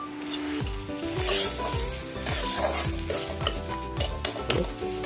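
Whisked sour yogurt being stirred into a Kashmiri chilli spice masala in a pan, soft sizzling with repeated spoon scrapes and clinks against the metal, close up, with tonal music running underneath.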